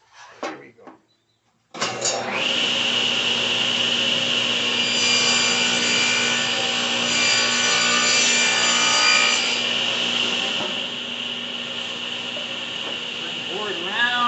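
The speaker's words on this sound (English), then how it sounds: "puts a little dado in there. I don't want too deep." A power saw cuts a shallow dado into a wooden board for an American flag address sign. A few brief knocks come first, then a loud, steady whining cut runs continuously for over twelve seconds.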